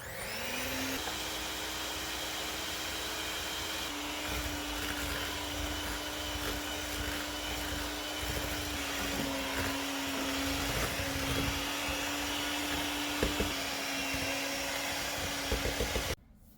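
An electric mixer drones loudly and continuously as it beats cream cheese and an egg into cookie butter for a blueberry and white chocolate cookie dough, a steady whine shifting slightly in pitch throughout, with no speech.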